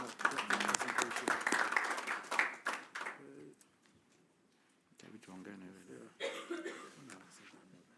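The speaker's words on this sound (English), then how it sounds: "So a round of applause for Rachel." An audience at a World Health Assembly side event on dengue fever claps in a brief burst of applause that dies away, followed by a quiet stretch and some nearby voices and shuffling.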